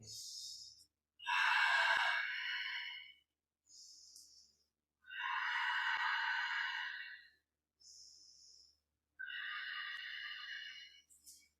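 Deep, slow breaths during a yoga session, three long airy exhales each lasting about two seconds, with shorter inhales between, close and fairly loud in a quiet room.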